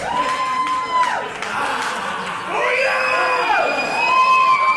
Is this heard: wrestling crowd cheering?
yes